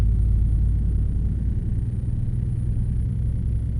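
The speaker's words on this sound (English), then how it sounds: "I enjoy hearing more engine sounds" A deep, steady Kenworth W990 truck engine rumble from American Truck Simulator drones continuously at close range, low and heavy with no voices over it.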